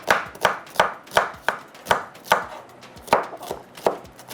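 A knife chops onion on a cutting board in a home kitchen, eleven crisp, evenly spaced strokes in a steady rhythm, close and fairly quiet, with no talking.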